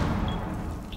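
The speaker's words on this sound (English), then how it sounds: "Oh no, that grenade." A grenade blast in the shooter game Rainbow Six Siege, a loud, close, low booming rumble that starts at full force and slowly decays.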